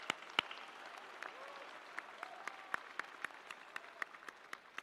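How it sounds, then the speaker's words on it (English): Thin, scattered applause at a United States Naval Academy Class of 2025 ceremony sounds quiet and distant, made of individual sharp claps spaced irregularly over low room murmur. "So big round of applause,"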